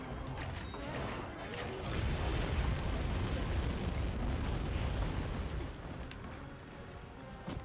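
A monster breathing fire in Monster Hunter Wilds: a sustained roaring, rumbling blast that swells and holds loud for several seconds before easing off, with faint background game noise.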